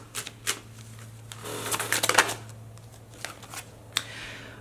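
A deck of tarot cards being shuffled by hand, giving a run of soft papery riffles and flicks that thicken into a denser burst midway, close and fairly quiet over a steady low hum, with no talking.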